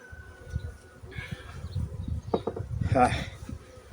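Honeybees buzz close by on hive frames in short, uneven drones that rise and fall, with a few clicks and handling noises around them.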